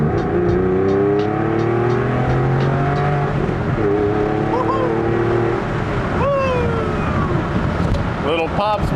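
A Porsche 911 (996) with a very loud exhaust revs up and down in sweeping tones, ending in a burst of crackling exhaust pops near the end, with voices talking over it.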